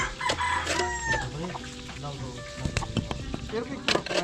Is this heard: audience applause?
no